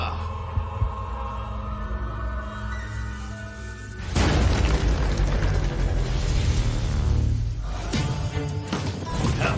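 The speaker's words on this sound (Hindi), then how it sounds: "धमाका।" A sudden loud explosion in an anime episode erupts midway, followed by a lingering broadband rumble and crackle over a steady droning musical background.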